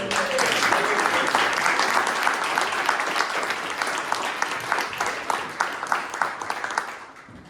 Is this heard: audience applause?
yes